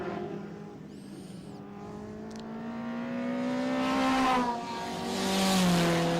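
Turbocharged front-wheel-drive Nissan Exa, number 60, racing at Winton in Group C & A: a loud, close engine note climbs through several revving gear pulls, with a brief high squeal and a swelling roar near the end.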